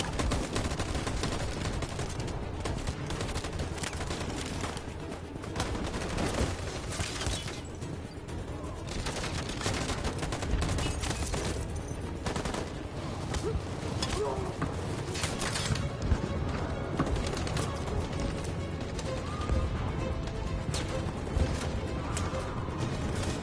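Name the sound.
gunfire in the video game Detroit: Become Human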